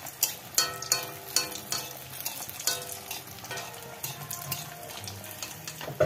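Potato kachori frying in hot oil gives a steady soft sizzle, broken by repeated stirring clinks and splashes at an uneven rhythm, close and fairly quiet with no voices.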